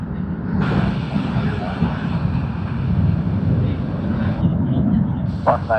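A jet aircraft arrives at Sydney Airport, a loud broad roar and rumble of engines with wind buffeting the microphone, sustained throughout with slight swells.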